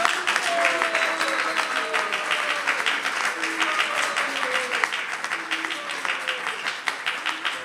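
Audience applause for a speaker after a kirtan and an inspiring talk at a Krishna Katha gathering: steady, dense clapping that holds for the whole stretch, with some faint voices underneath.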